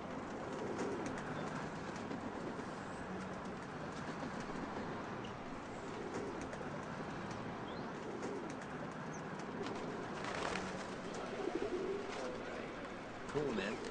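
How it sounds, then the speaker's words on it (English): Pigeons coo softly in an outdoor street setting, with soft wing flutters and a steady background murmur, while people talk nearby. "Let's go film the pigeons."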